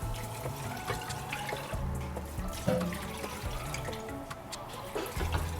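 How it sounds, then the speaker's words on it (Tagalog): Water pours steadily into a pot of pork for sisig with a continuous splashing rush, close by, and a few clinks of kitchenware along the way. "Lagyan na po natin yung tubig."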